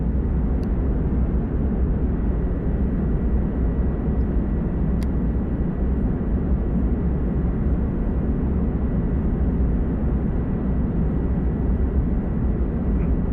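Jet aircraft in a flight simulator after an aircraft carrier launch, accelerating past 300 knots with afterburner off: a loud, steady, broadband engine roar that stays constant throughout, with no speech.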